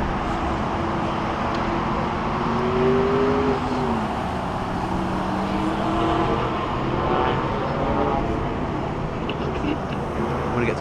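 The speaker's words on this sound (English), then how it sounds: "Rolls-Royce driving around the track." A 2014 Rolls-Royce Wraith drives around the Yas Marina F1 circuit, heard as a continuous broad engine and road roar with slowly shifting engine tones, steady and moderately loud throughout.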